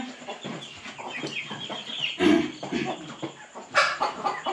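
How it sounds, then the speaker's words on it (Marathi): Desi cross rooster and hen clucking close by in a series of short, uneven calls, with a louder burst near the middle and another toward the end. "हा बघा ओरिजिनल गावठी कोंबड्यासारखाच आहे, गावठी क्रॉस असल्यामुळे."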